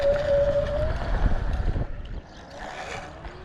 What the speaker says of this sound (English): You hear that front wheel spinning?